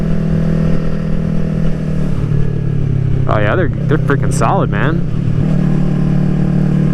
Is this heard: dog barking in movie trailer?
no